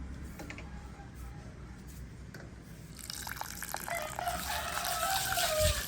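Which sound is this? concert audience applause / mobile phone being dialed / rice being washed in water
rice being washed in water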